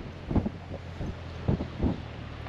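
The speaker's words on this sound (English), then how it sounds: "It's a bit windy." Wind buffeting the microphone on a beach at Tumby Bay, South Australia, in low rumbling gusts that swell and fade several times, with no talk over it.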